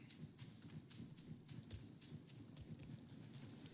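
Faint, rhythmic horse hoofbeats clop along in a cave in Black Myth: Wukong, evenly spaced and moderately distant, with no talk over them.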